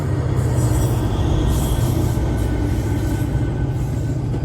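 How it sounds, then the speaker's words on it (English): GO commuter train rolling past nearby, a loud sustained low rumble of wheels and carriages with hissing rail noise throughout. "As you see train coming by"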